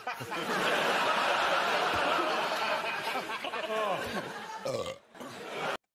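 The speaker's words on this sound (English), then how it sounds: "That's a man's burp right there." A long, loud, rasping burp rolls on for several seconds, followed by a few words and soft chuckling.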